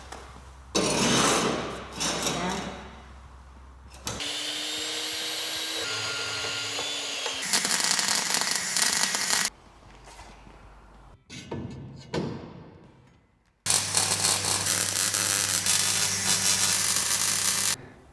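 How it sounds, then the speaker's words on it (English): Braces being welded onto a Mk1 Ford Escort shell held on a jig: loud bursts of harsh crackling and buzzing alternate with a whining tool and short gaps, stopping and restarting several times, close up with no talk. "let's get welding"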